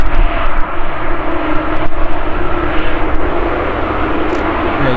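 A jet airliner passes at Manchester Airport with a loud, steady broadband engine roar that holds throughout, close and without talk.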